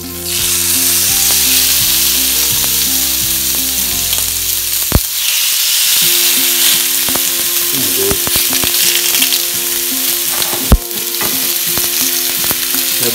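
Oiled monkfish sizzles loudly and steadily on a hot griddle pan, a dense continuous hiss with brief sharp crackles near five and eleven seconds and a low hum underneath.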